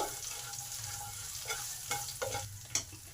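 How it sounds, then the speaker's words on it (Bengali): Cumin, nigella seeds and grated ginger fry in hot oil for a doi begun dish, giving a steady soft sizzle. A few brief scraping stirs cut through, and one sharp clink sounds near the end. "এবার এই জিরে কালো জিরে আর আদা এগুলোকে একটু ভালো করে ভেজে নেব"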